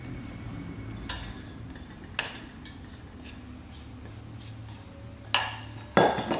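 Whisk or spoon mixing sugar and custard powder into egg yolks in a bowl, heard as a faint steady stirring with a few sharp clinks of utensil against the bowl, the last two louder.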